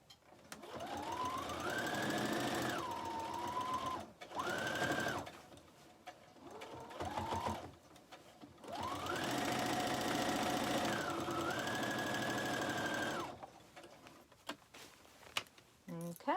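A sewing machine top-stitches the waist of a ribbon skirt in several bursts of rising and steady motor whine, the longest lasting about five seconds, separated by short pauses with faint handling sounds.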